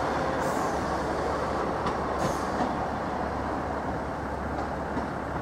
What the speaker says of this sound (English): No surprise, really, when it's a one coach train working an evening peak service.